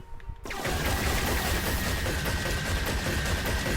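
Rapid gunfire in Disney Infinity 3.0, fired from atop a building, erupts after a brief quiet start and continues as a loud, dense, sustained barrage of overlapping shots.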